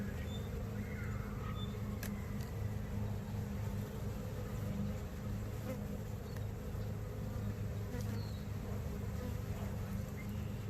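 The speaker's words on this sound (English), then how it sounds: "these bees are wanting to get a little excited" A steady, dense drone of many honey bees buzzing around an open hive being inspected, close and continuous for the whole stretch with a few small knocks and clicks over the swarm's hum.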